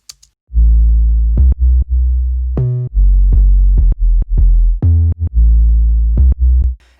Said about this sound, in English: So the main bass sounds like this.